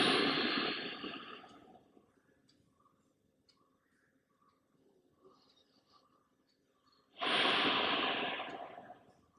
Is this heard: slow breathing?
yes